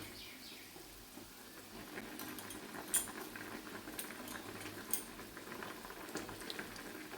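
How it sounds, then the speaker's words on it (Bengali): A pot of thin fish curry broth with potatoes simmering at a steady boil, a continuous bubbling hiss with occasional louder pops, close and alone. "এবারে 10 মিনিট ফুটতে থাকুক"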